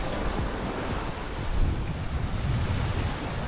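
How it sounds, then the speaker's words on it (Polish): Waves wash onto a beach at Larnaca, Cyprus, in a continuous loud surf roar mixed with wind buffeting the microphone, with no voices. "No i plaża jest."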